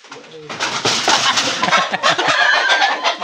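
Chickens cluck busily close by, with dense overlapping calls that may include a rooster's crow, while people talk nearby.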